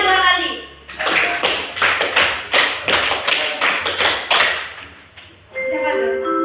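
High school students in a classroom clap a rhythmic counted pattern together, loud groups of sharp claps in quick repeated bursts, with voices around them.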